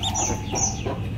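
A newly hatched chick chirps, a few thin high peeps in quick succession, close by over a steady background murmur.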